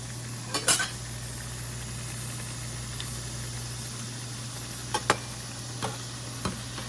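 Frying nimki being stirred and turned in a pan, a few scattered utensil scrapes and clinks over a steady sizzle and constant low hum, with no talking.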